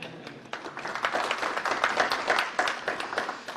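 Scattered conference audience clapping, a modest crowd applauding a developer-tools talk; dense, fairly even clapping that holds for a few seconds without voices.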